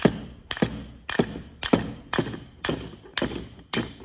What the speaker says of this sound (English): Now that we got the two circlips out, you can just gently tap.